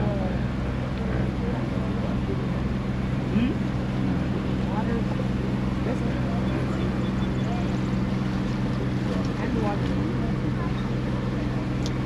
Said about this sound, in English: please remain seated while the boat is in motion